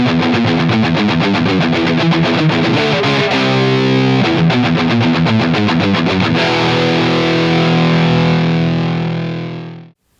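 A heavily distorted high-gain electric guitar riff played through cheap humbucker pickups, loud and continuous with rapid chugging notes, then a long ringing chord that cuts off abruptly at the end.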